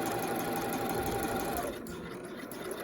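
A sewing machine stitching a zip, its motor running in a steady, fast mechanical whir close by, then easing to a lower, softer hum near the end.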